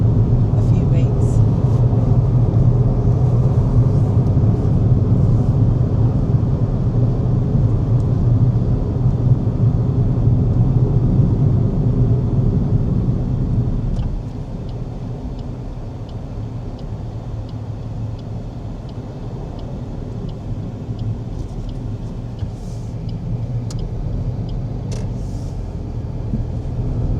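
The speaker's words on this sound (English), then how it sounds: "the car needed a good drive because I haven't driven it for a few weeks." A car driving on a road between Palmerston North and Feilding in New Zealand gives a loud, steady cabin rumble throughout, easing slightly about halfway through, with occasional talking faintly over the engine and road noise.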